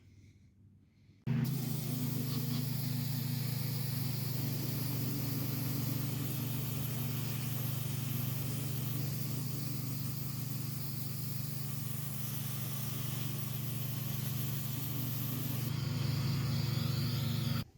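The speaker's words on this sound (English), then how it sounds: "Probably combine this with the power washer and see what happens." Power washer spraying paint stripper off a vintage 1932 Mobiloil Gargoyle metal sign, a steady loud hiss with motor hum that starts abruptly and runs continuously for about sixteen seconds.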